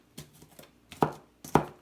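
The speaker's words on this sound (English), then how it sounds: "See, I'm rough chopping them." A knife rough-chops vegetables on a cutting board, three or four sharp thuds at an irregular pace, close and clear, with no talking.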